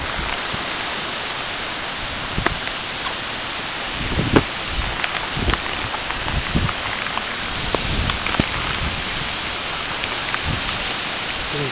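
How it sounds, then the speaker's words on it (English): Hurricane Irene's wind-driven rain pours down at night in a steady, dense roar that never lets up, broken by scattered sharper drips and taps as gusts sweep across the area. "You can see the wind blowing the rain all the way over the place here."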